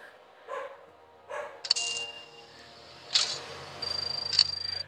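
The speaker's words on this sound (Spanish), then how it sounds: "Y luego mis perros que les gusta ladrar." Dogs barking at a home: a few short muffled barks spaced apart at moderate distance, over a quiet background with a light electronic tone near the end.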